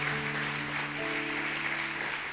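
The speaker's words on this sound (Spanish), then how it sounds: "Denle un fuerte aplauso al Señor por ellos." Church congregation applauding at a Spanish-language service, a steady dense wash of clapping with a sustained organ or keyboard chord held underneath throughout.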